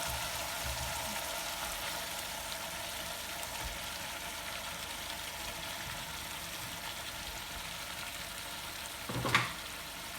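Stuffed eggplants for Hyderabadi bagara baingan frying over low heat in masala in a pan, a steady close sizzle running throughout, with a brief louder clatter near the end.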